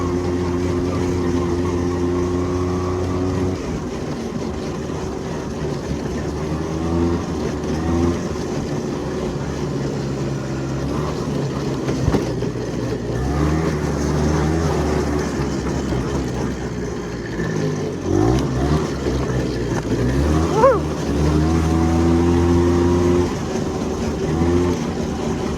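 A 1977 Honda Odyssey FL250 engine runs and revs up close, a rough buzzing idle that climbs and falls in repeated throttle blips over half a minute.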